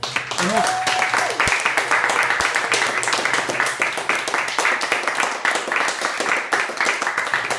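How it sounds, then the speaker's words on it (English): An audience at an evening talk gives a round of applause to the speaker, a dense, steady clapping texture that carries on throughout, with a brief voice near the start. "So can we have a big round of applause for Ben?"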